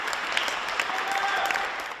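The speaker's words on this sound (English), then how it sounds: "There was applause from the staff who volunteered to move to work there." Hospital staff applaud for a recovered COVID-19 patient being moved out, a steady burst of clapping from a group that fades slightly at the end.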